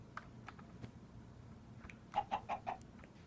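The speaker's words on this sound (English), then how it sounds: "Chicken." Chicken clucking in a Minecraft-style video game, a few scattered soft clucks then four quick, evenly spaced clucks near the end, faint over low background noise.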